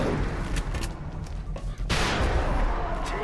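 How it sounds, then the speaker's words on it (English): Rapid-fire double-shot gunfire in the video game XCOM: Enemy Unknown, a few loud, close, booming shots in quick succession against a dense, noisy battle background. "Double shot, rapid fire."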